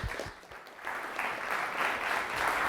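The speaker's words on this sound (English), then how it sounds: "let's give a warm round of applause to Sean." A conference audience breaks into applause for a speaker being introduced, a dense wash of clapping that swells and holds steady for a few seconds.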